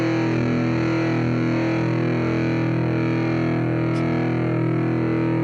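A distorted electric guitar power chord through a tube preamp rings out loud and sustained, a thick buzzing wall of sound that holds steady without letting up.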